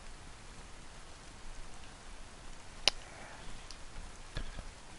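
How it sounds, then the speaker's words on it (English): Steady rain in the video game DayZ patters down in a soft wash of noise, with a few sharper drips ticking nearby. "This rain really is coming down hard."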